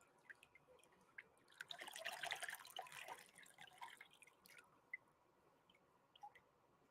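Printed fabric dunked in water gives a wet swishing squish that swells for a couple of seconds, then fades into scattered soft drips and trickles.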